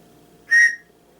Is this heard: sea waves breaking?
no